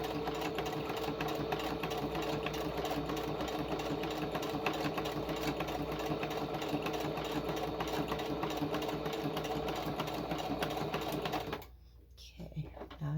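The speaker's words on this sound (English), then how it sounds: "I'm just going to go a little slower for the needle's sake. But it goes through it just fine." Sewing machine stitching slowly through the thick paper of an envelope journal, a rapid steady mechanical chatter of needle strokes that runs continuously, then stops abruptly near the end.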